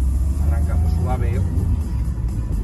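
Lada Niva engine pulling away gently from a stop, a low steady rumble heard from inside the car, with someone talking over it.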